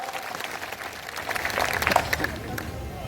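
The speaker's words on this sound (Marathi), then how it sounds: "मी त्यांचंही आपण सर्वांनी एकदा जोरदार टाळ्या वाजवून स्वागत करूया।" An audience at a political rally claps to welcome a district president. The applause is fairly faint and rises to a brief, scattered burst midway through, with voices in the background.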